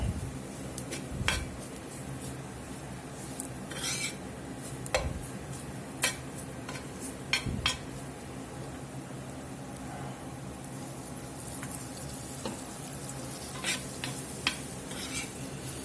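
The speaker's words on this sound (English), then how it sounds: "We just want to make sure this flour fries off here a few minutes." Flour cooking in fatty sausage drippings in a pan for sausage gravy, a low steady sizzle with repeated sharp scrapes and clinks of a utensil stirring against the pan, close and continuous without talk.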